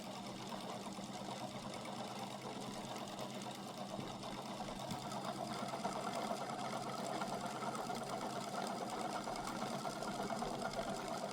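A small toroidal pulse motor runs continuously with a quiet, steady mechanical whir and rapid ticking pulses, faint and even throughout.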